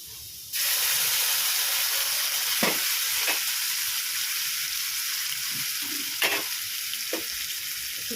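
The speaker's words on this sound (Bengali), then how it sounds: "তো আলুটা আমার লাল লাল করে ভাজা হয়ে গেছে। এবার এর মধ্যে পোস্তটা দেবো।" Browned potatoes fry in a pan, and a loud, steady sizzle bursts in as poppy seed paste is added, holding a continuous hiss with a few stirring scrapes and clinks along the way.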